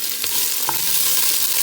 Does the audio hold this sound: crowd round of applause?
no